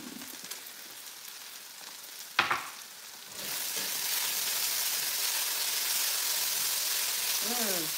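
Onions frying until crispy for chicken fajitas: after a quiet start with a brief clatter, a loud, dense sizzle bursts in and holds steady, with a short voice near the end.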